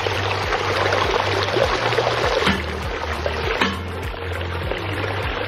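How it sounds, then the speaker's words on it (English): A backyard koi pond waterfall pours steadily, a close, continuous splashing rush with a low rhythmic hum underneath and no voices. "And then a beautiful waterfalls. Listen to that sound."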